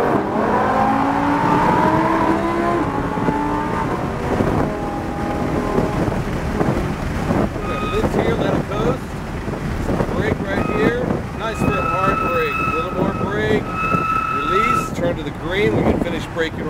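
Lamborghini Huracan on a race track in Tampa, Florida, its engine roaring steadily under full throttle down the straightaway, loud and close from inside the car, with an instructor talking over the engine.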